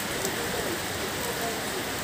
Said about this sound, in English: I'm just loving this rainy season.